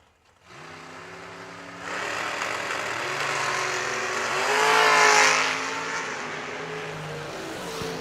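Drag race at a strip as a pickup truck and a dragster launch off the line, engines swelling from a loud rumbling idle into a rising roar that peaks and fades into the distance.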